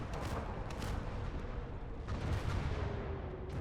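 Howitzer artillery fire in the Warhammer 40K strategy game Indomitus 40K Conquest, a dense continuous barrage of low booming rumbles with scattered sharper reports, steady and loud throughout.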